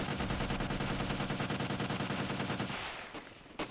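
Rapid automatic AK rifle fire from the Ravenfield video game, a dense sustained burst of loud, evenly spaced shots that cuts off near the end, followed by a couple of short isolated cracks.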